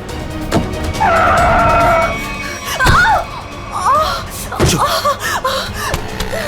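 A car skids with a sustained tyre screech during a tense chase scene in a Hindi crime drama, followed by sharp impacts and gasping, frightened voices.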